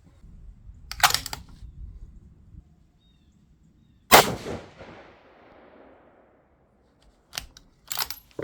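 Rifle shots during a shooting test with the cheek weld deliberately broken: sharp, loud reports ring out one at a time, with a long decaying tail after the middle shot and two more closely spaced blasts near the end, separated by quiet.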